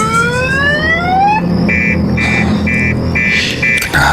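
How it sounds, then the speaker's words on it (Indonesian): A car alarm blares nearby in repeated short electronic bursts, following a rising siren-like sweep, over a steady low engine rumble. "ketika mendengar suara alarm mobil ini menyala sendiri"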